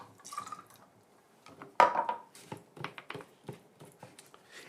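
Orange bitters dashed into a cocktail, a few small drips and a light glassy clink amid handling noises, close and fairly quiet.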